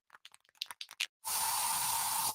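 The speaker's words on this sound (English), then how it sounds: "So you just used bug spray in your home." Several brief clicks and rattles precede a loud, continuous aerosol spray hiss lasting about a second, close by.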